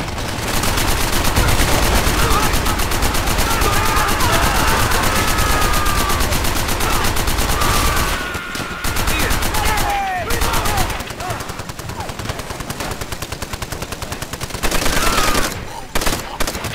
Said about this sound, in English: Open fire! Miller, man that MG